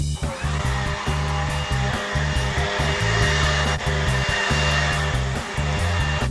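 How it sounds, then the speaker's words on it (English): A Ryobi battery-powered leaf blower runs steadily and loudly up close, a continuous motor whine with airy rush holding level throughout, no talk. "it's got really good power for a battery blower"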